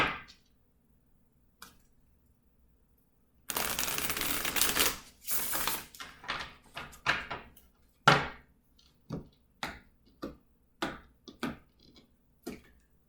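A long riffling burst of cards being shuffled, followed by a series of softer taps and flicks as cards are handled and set down, close and quiet.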